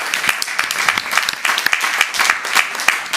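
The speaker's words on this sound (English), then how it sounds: "give yourself a round of applause for completing it" Applause from a city council meeting audience clapping for themselves, a mid-sized crowd with dense, uneven hand claps and sharp individual slaps standing out, fairly close and steady for about three seconds.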